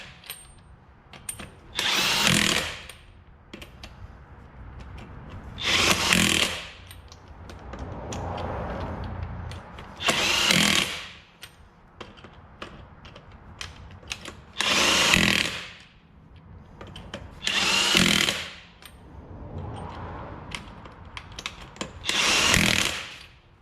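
A power tool torques down lug nuts on a 2019 Ram Cummins truck's 22x12 wheels in six loud, separate whirring bursts of about a second each, spaced several seconds apart, with quieter shuffling and handling noise between them.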